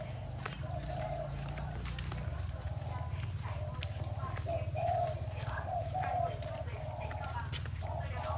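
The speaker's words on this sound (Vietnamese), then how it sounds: "Trưa này mấy con chim cút cu nó kêu quá." Doves coo repeatedly at midday in rural Vietnamese bamboo country, their soft calls recurring at a moderate distance over a constant low rumble and light rustling.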